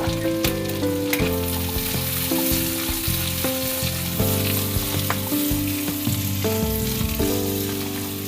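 Roughly chopped onions and cashew nuts fry steadily in a pan for butter chicken, a continuous sizzle heard under background music.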